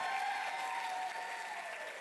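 An audience at the City of South Fulton mayor's State of the City address breaks into sustained, even applause, heard at a distance and fairly soft, with a faint tone lingering underneath.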